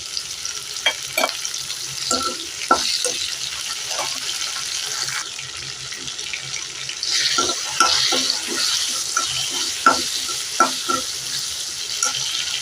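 Tomatoes going into a simmering okra and tamarind curry in a pan sizzle steadily, with scattered clinks and stirring knocks and a brief louder hiss partway through; no one speaks.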